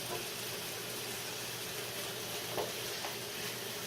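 A steady bright hiss of food sizzling and frying in a hot pan on high heat, continuous and close throughout, with faint scraping touches and no talking.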